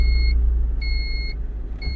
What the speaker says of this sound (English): Classic Honda startup.